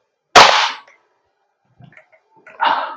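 A WE 999C G36C airsoft gas blowback rifle fires one sharp, loud crack with a short hissing tail, followed by faint mechanical clicks and then a second burst of gas near the end.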